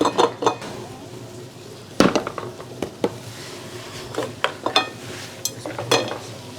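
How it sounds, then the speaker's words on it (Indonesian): Ice cubes dropped into a just-boiled mango pudding mixture in a home kitchen make a series of close, sharp clinks and clatters. Some hits come in quick clusters and others stand alone over a quiet background. "kita masukin es batu"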